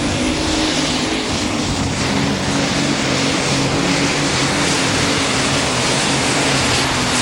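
A super stock open class pulling tractor at an NTPA Super Nationals tractor pull in Tomah, Wisconsin, roaring at full power: a loud, dense, unbroken engine blast with a steady low drone and no pauses.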